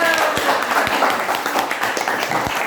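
A classroom of students claps hands together in a brief burst of applause, a dense patter of claps with a few sharper slaps standing out.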